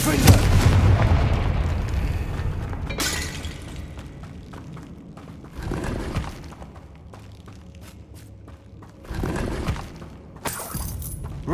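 Confringo fire-blast spells in the Hogwarts Legacy video game go off as several sharp, crackling explosive bursts spaced a few seconds apart, each loud and broadband over a low background rumble.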